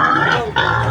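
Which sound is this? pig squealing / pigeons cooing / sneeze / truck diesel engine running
pig squealing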